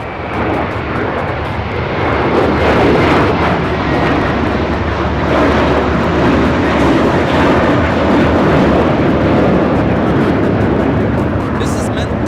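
A JetBlue Airbus A321 takes off from Los Angeles for JFK with a loud, continuous engine roar that stays broad and sustained throughout. A voice talks over the jet noise.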